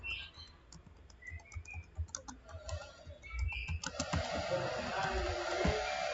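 Computer keyboard typing while entering telnet configuration commands: scattered sharp key clicks in irregular bursts, close and fairly quiet, with a steadier rush of faster clatter in the second half.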